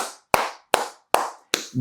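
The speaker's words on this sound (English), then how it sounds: "Give Ashton a round of applause, you guys" Four sharp, evenly spaced claps about 0.4 seconds apart ring out close and loud in a room, a slow, deliberate pattern rather than a full crowd, given for a participant after a coaching session.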